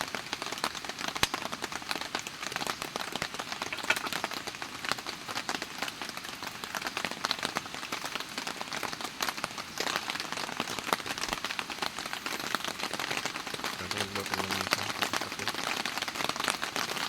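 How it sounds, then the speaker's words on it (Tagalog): Heavy rain pours steadily at a farm campsite, a dense continuous hiss of drops on surfaces lasting the whole stretch, with a faint low hum near the end. "Kaya bigla lang nag-ulan guys."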